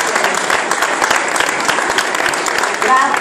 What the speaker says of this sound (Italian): un applauso fortissimo a queste cinque fantastiche donne